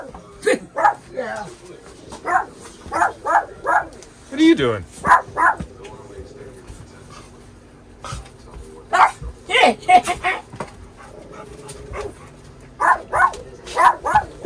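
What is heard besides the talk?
dog barking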